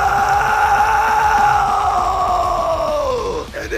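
A voice imitates a bored cat screaming at four in the morning: one long, loud, drawn-out yowl that holds steady for about three seconds, then bends downward and breaks off near the end.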